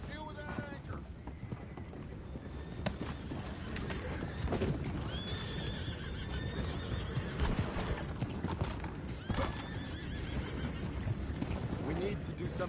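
Horses from the video game Red Dead Redemption 2 whinny and neigh over a continuous clatter of hooves, joined by mechanical creaking and game ambience. Voices talk over the busy, dense scene throughout.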